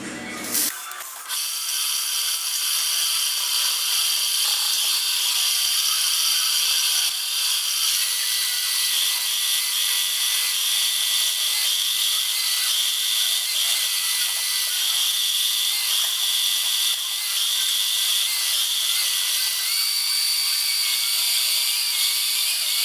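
A lathe turns down a part for a small wobbler steam engine, a steady machining whine and hum running loud and continuous for over twenty seconds after a brief start.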